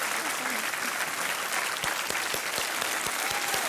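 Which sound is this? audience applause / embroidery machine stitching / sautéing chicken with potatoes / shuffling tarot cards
audience applause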